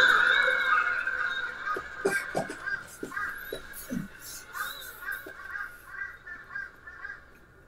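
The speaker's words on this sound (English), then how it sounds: "You see all the crows and shit." Crows caw in an anime episode, several harsh calls repeating in an uneven rhythm at moderate loudness over a faint background, with no talking.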